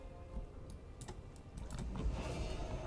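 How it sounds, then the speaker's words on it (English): A computer trackball clicks oddly in a quiet room, with a few sharp separate clicks spread across a few seconds and faint keyboard-like tapping. "You see what I'm saying about my trackball clicking oddly?"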